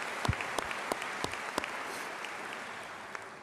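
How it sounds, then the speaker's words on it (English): A small crowd claps at a high school commencement, with scattered sharp hand claps over a soft, steady patter that stays fairly distant and quiet, and no one speaking. "Johnny, we'll clap for that too."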